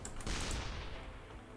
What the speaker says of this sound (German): Jetzt muss ich mal meinen Schuss machen, sonst dauert alles viel zu lang.